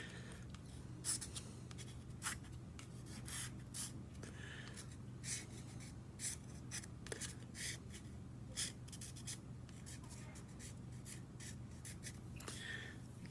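A pencil draws lines on paper during a figure drawing demonstration, giving many short quiet scratchy strokes at an uneven rhythm over faint background hum, heard close with no talking.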